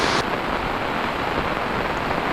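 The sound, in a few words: heavy rain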